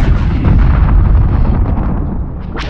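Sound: space fleet weapons fire and explosions in video game Homeworld 2

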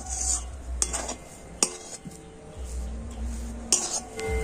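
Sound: stirring semolina dough continuously in a pan

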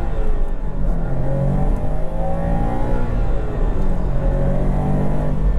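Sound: Subaru WRX STI engine accelerating

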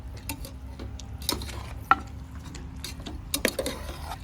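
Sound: mutton frying with onion, ginger garlic paste in oil

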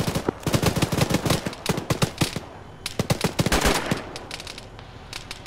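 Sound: gunfire in a video game (Arma, ShackTac)

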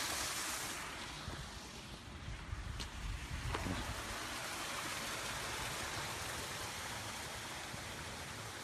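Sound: garden waterfall flowing

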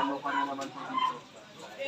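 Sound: chickens clucking

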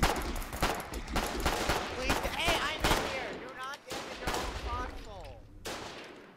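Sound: gunfire from friendly soldiers shooting in the video game Foxhole

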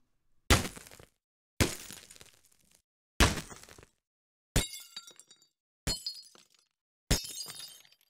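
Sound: bullet impact surface sounds in video game demo, Unreal Engine Wwise

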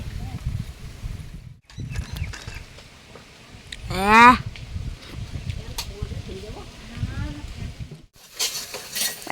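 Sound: sister cooking on a gas stove, stirring and frying

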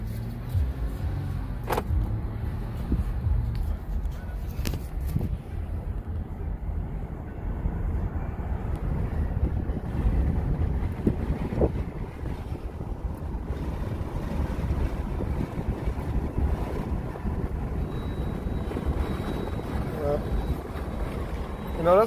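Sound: 2020 Jeep Gladiator driving with top down, wind

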